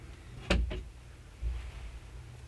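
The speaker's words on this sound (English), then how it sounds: "I'm going into my pantry, and I'm going to close the door" A pantry door closes with a sharp close thump and a quick rattle, followed by a softer low bump a second later in a quiet room.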